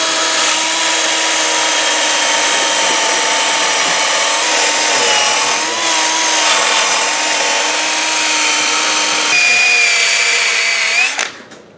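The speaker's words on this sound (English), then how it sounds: "We're going to use a little wire brush on this drill over here, and we're going to try to scrape off the paint" A power drill whines steadily with a rough scraping grind as a wire brush scrapes paint off metal, continuing for many seconds before spinning down abruptly.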